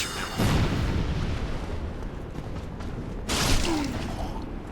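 A loud, booming shot rings out in Dark Souls Remastered against an opponent holding a parry stance. It cracks out twice, the second blast well after the first, over a rumbling game backdrop.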